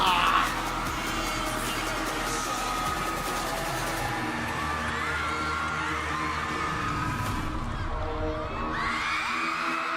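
A large concert crowd at a performance cheers, whoops and screams in a loud, sustained roar, with higher shrieks rising toward the end and music faintly underneath.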